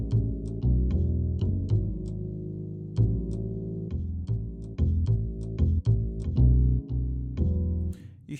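Upright bass and piano play together in a steady jazzy groove, with plucked low notes under chords and light melodic touches.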